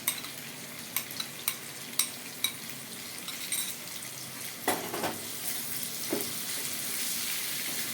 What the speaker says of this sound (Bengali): মাখিয়ে নেব আলুর সাথে নেড়ে ছেড়ে